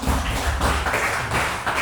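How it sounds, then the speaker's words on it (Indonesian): A school class audience applauds, a dense, steady patter of many hands clapping together at close range for a short stretch. "Beri aplaus dulu Bapak."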